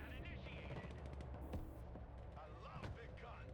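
Gunfire in the military strategy game Broken Arrow, rapid machine-gun bursts and scattered shots rattling steadily at moderate distance, with someone talking over the battle noise.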